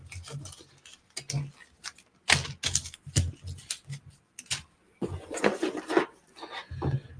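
A cardboard maker subscription box being opened up close: crinkly rustles, sharp taps and clicky handling noises come in irregular bursts, with no one talking.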